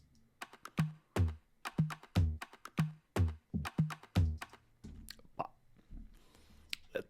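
An Afro house toms and kick pattern with an added tom shot: punchy pitched drum hits in a repeating groove that give way to scattered softer clicks and noise near the end.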